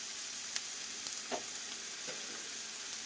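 Chopped onions sizzle steadily in a hot pan for palak paneer, a constant close frying hiss with a few faint stirring clicks.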